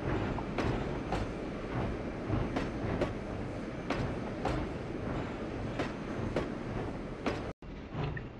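A Denver & Rio Grande Western narrow gauge passenger train in Trainz 2009 rolls steadily near Chama, with a continuous low rumble and regular clickety-clack wheel beats, briefly cutting out near the end.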